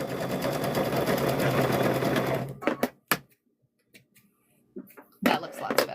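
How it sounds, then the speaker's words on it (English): A sewing machine stitches across a fabric corner in a fast steady whir for a couple of seconds, then stops, followed by a few clicks and brief short bursts of stitching. "we're going to sew across this corner here"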